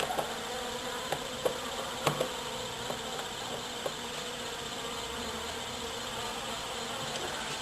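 A steady insect drone hums throughout, a dense outdoor buzz of many honeybees around hives during installation of a bee package, with a few faint knocks and clicks scattered on top.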